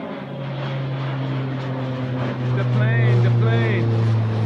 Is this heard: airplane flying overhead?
yes